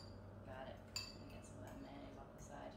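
A metal fork stirs quesadilla sauce in a bowl, giving soft scraping and faint clinks against the bowl's side in a low, steady background with a couple of sharper taps.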